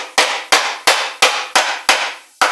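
Ball peen hammer pounding car body sheet metal into a dented bowl shape: seven sharp, evenly spaced metallic blows about a third of a second apart, each ringing briefly, loud and close with no talking.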